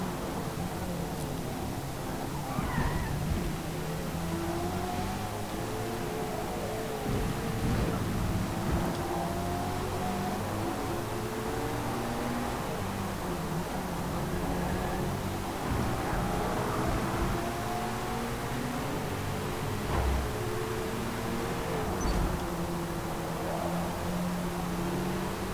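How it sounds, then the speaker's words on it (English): Mid-engine Porsche with a flat-four engine in Forza Motorsport, a continuous engine drone whose pitch rises and falls with throttle over a steady wash of road and wind noise. "I like the flat 4 in this engine,"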